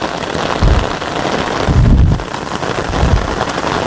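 Heavy rain pours steadily on a mountain trail during the monsoon walk from Haridwar to Neelkanth Mahadev, a dense hiss of drops with a few dull low thumps rising and fading underneath.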